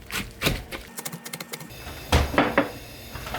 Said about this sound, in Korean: 배추 꼭지를 따서 요것도 영양가 있으니까 호판에 한번 잘라서 드시기 좋은 크기로 잘라줍니다.